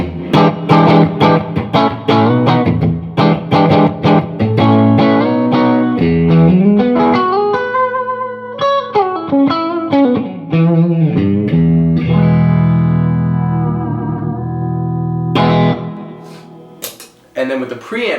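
A distorted electric guitar played through a Ceriatone OTS 20 amp with the overdrive engaged rings out loud with chugging chords, then sustained bent lead notes and fast picked runs, with no voices over it.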